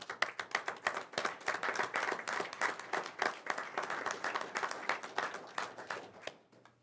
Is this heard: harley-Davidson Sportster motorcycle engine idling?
no